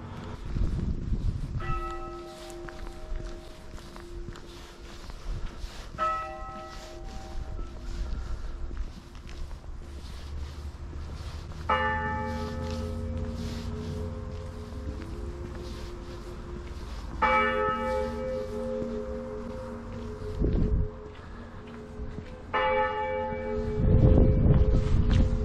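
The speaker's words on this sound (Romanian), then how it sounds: "Astăzi este duminică, clopotele bat la biserică" Church bells ring out on a Sunday afternoon in the village of Varbilău, Prahova, sounding a series of clear, resonant strikes a few seconds apart that carry over outdoor ambience with some footsteps and rustling.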